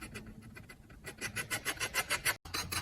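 A steel scraper rasps across a mezzotint printing plate in repeated short, even strokes, close and fairly quiet, with a rhythmic rubbing texture that grows a little louder toward the end.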